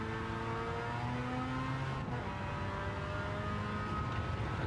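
A Suzuki Cappuccino with a swapped engine pulls away from the pit stop on fresh tyres in Gran Turismo 7, its steady engine drone rising in pitch as it gains speed, continuous and fairly loud.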